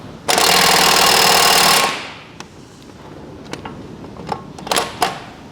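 A pneumatic impact gun runs a nut up in a workshop: one loud, continuous rattling burst of about a second and a half, then quieter clinks and knocks from nearby tools.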